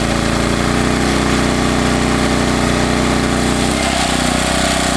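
WEN portable generator engine running steadily on its high setting, a loud, close, constant droning hum with a slight shift in tone near the end and no talking.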